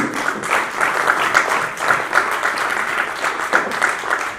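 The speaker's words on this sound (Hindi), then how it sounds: "आप सबसे रिक्वेस्ट है कि एक बार से तालियां होनी चाहिए" Steady, full applause from an audience at an award ceremony in Jaipur, loud and continuous with rhythmic pulses throughout, no voices on top.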